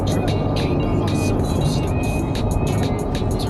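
A Nissan Z cruises in 4th gear at around 3,000 RPM, about 50 mph, with a faint, steady gear whine over a constant engine and road drone inside the car.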